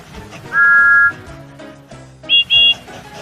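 A toy engine's whistle sounds in a children's train story, first as one sustained tone, then as two short higher toots, over soft background music.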